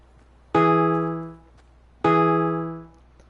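Fortnite music blocks playing two identical game notes, each a sharp synthetic onset with a bright harmonic tone that decays over about a second, spaced roughly one and a half seconds apart with no talk.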